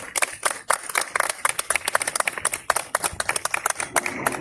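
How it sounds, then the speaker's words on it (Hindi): An audience claps at a community gathering following a recited Hindi poem about greenery, producing a steady run of sharp, closely spaced hand claps that continue throughout at a moderate, fairly near level. "तालियां बजती रहनी चाहिए"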